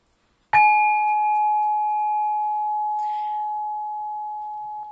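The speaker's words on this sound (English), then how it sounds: "Gonna do the bell" A single bell or singing-bowl strike rung to open a tarot reading rings out clear and close, then sustains a long steady tone that slowly fades, with a faint brief rustle partway through.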